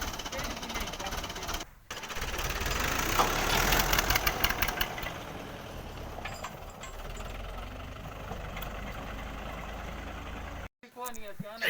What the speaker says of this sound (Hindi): ट्रैक्टर को स्टार्ट करते हैं